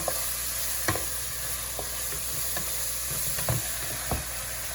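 Rice and vegetables sizzle steadily in a hot pan, close up, with scattered scraping knocks of a spatula as the food is stirred.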